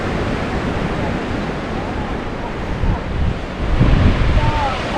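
Sea waves washing onto the shore at Saraya Island, Ras Al Khaimah, at a beach campsite, a loud, steady surf roar with heavy wind buffeting the microphone and a swell building toward the end.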